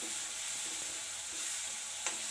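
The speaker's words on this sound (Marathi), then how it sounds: "लसूण आणि हिरवी मिरचीची पेस्ट या तेलामध्ये छान अशी आपण तळसून घेऊया." Garlic and green chilli paste frying in hot oil in a pan, a close, steady bright sizzle with faint stirring scrapes and one small spatter near the end.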